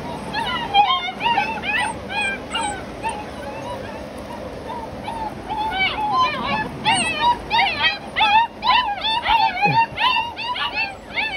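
Young scrub puppies of a Black Mantle blue litter whimper and yip in a steady stream of high, wavering cries up close, while a person talks softly over them.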